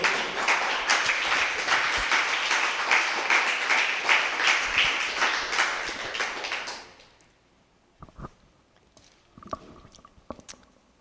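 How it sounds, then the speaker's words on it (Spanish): A church congregation applauds for about seven seconds, dense sustained clapping that then cuts off, leaving a few faint knocks and shuffles in a quiet room. "Un aplauso a nuestro Dios."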